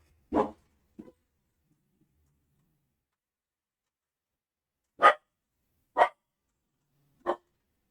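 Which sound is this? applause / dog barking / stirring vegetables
dog barking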